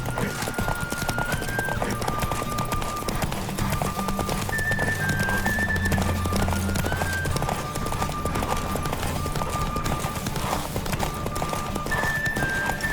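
Horse hooves clip-clop at a steady gallop with an occasional whinny, set against game-style music and effects from The Witcher 3: Wild Hunt on PS5.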